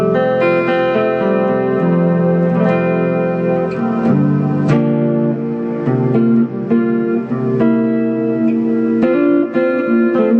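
An electric guitar plays chords and single notes through an EVH 5150 III LBX amp head on its clean channel with the gain turned down, into an EVH 212ST 2x12 cab, with reverb audible, steady and up close.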